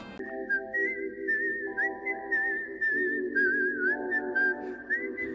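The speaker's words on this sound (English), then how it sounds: "Also that whistle theme." A clear, melodic whistled rendition of the Kill Bill soundtrack theme, rising and falling over steady sustained musical accompaniment throughout.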